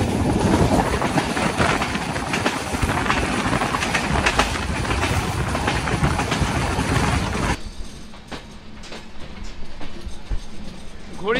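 An intercity Kapotaksha Express passenger train runs on rails between Rajshahi and Khulna, its loud steady rumble and clatter heard from on board, then dropping abruptly to a quieter, sparser rattle in the last few seconds.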